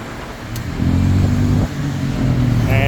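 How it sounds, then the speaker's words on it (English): Bangkok road traffic with buses heard from a bicycle, a loud, close engine drone with vehicles accelerating past and rumbling steadily throughout. "The most difficult part in traffic is always these buses."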